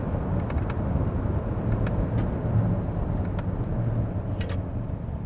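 Hyundai Palisade 2.2 diesel driving in sport mode, heard as a steady, fairly quiet low engine and road rumble from inside the car, with a few faint light ticks on top and no one talking.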